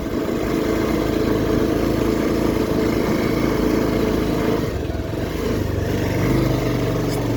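A motorcycle engine runs steadily while riding a rough, broken mountain road, a continuous mid-pitched drone with bumps and a short dip before it picks back up.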